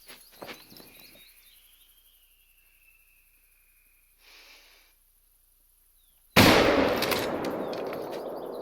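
A rifle shot rings out in theHunter: Call of the Wild on the Vurhonga Savanna, a sudden loud crack at about six seconds whose echo rolls on after it. Before it come quiet outdoor ambience, insect chirps and a soft rustle.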